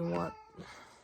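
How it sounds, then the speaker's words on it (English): A cat gives a clear, drawn-out meow up close, followed by a softer, shorter murmur. "sorry, that's my cat."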